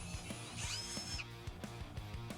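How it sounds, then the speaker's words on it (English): A power drill bores a rivet hole through a MudBusters fender flare on a Yamaha RMAX side-by-side, giving a brief high whine amid a steady background whir and some rhythmic knocking, fairly quiet overall. "drill the first hole"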